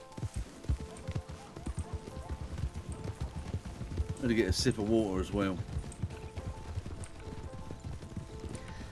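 Steady clip-clop of a horse's hooves plodding along throughout in the video game RedM, with a short neigh midway and someone talking over it.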